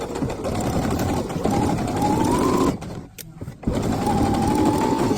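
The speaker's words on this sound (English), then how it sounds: "I'm sewing the collar on now with your 1 centimetre seam allowance." A sewing machine stitches a shirt collar through several fabric layers at a 1 cm seam allowance, running in a steady close whir that stops briefly for about a second before starting again.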